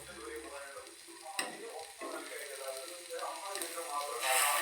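Etta fish fries in a pan, a steady close sizzle and crackle that swells toward the end with a few knocks, a voice speaking briefly over it.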